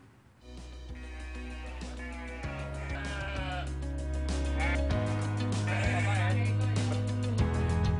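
Goats and sheep bleat over and over in a livestock pen on a farm in Klaten, Central Java, the calls overlapping and steady with a constant low drone beneath them.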